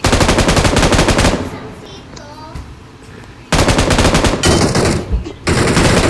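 Loud, rapid machine gun bursts in a first-person shooter video game fire close up, two long volleys separated by a quieter gap with faint game sounds, then a short final burst.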